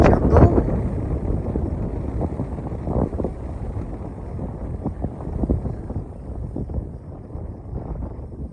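Strong wind gusts across the open Badlands of South Dakota, roaring steadily and buffeting the microphone with loud low rumbles for the whole stretch, no voices over it.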